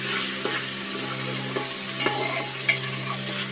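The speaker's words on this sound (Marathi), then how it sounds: "हा तांदूळ तुपावरती परतून घ्यायचा आहे" Rice fried and stirred in ghee for coconut rice, a steady close sizzle with intermittent scraping stir strokes, no talk.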